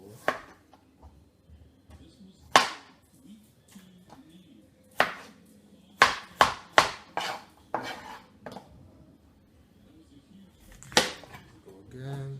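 A kitchen knife chops carrots on a cutting board for a beef soup, sharp isolated knocks arriving in irregular bursts of two to four, crisp and close with quiet gaps between.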